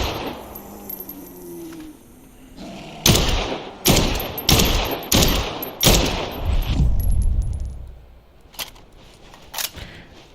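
Gunfire in the Dead Island 2 video game while shooting zombies: a rapid string of sharp, loud shots in the middle, followed by scattered single cracks and thuds, heard close over a low ambient game background.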